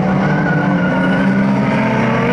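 Micro banger race cars roaring around the Kings Lynn track, a loud, continuous engine drone with tyre noise, close and unbroken throughout with no talk.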